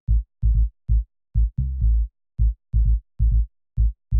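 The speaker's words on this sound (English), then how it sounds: "just like a simple kind of boomy sound like this" Simple boomy FM synth bass line for a funky minimal house track, short deep pulsing notes in an upbeat syncopated pattern with one longer held note, loud and alone.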